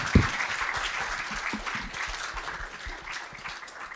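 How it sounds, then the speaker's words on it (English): Audience applause for members of a panel at a voting-rights anniversary commemoration, a steady wash of many hands clapping that holds for four seconds and fades slightly toward the end, with no voices over it. "just a round of applause for all of our panel members today"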